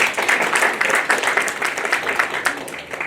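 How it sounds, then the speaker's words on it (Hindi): An audience at a classical Indian music evening applauds, steady dense clapping with a few louder claps, and faint voices blend in beneath it. "तालियां"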